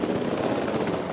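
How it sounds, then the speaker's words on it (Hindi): Helicopter rotor noise in the video game Jurassic World Evolution 2 as the aircraft flies off, a steady broadband whirring drone that stays fairly loud and even throughout with no talk over it. "अबे हेलीकॉप्टर अपने आप ही जा रहा है"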